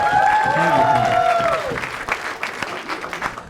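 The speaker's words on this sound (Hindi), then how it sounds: "एक बार जोरदार तालियां" An audience at a comedy talent show breaks into loud, sustained applause that fills the room, with voices and cheers mixed in before it gradually thins out.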